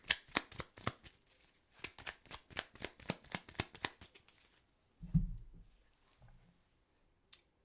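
Tarot cards shuffled during a weekly tarot reading, a quick series of crisp riffling bursts for about five seconds, then a dull thump and soft handling noises as a card is drawn.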